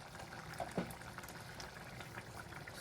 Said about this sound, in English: We are letting it to simmer some more without the lid